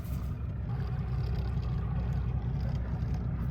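A boat's outboard motor drones steadily as it shifts into gear, a loud, constant low rumble that fills the whole stretch with no talking over it.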